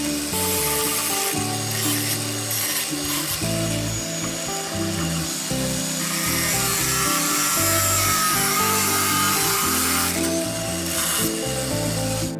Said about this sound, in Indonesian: Kita potong menggunakan mata cutting wheel.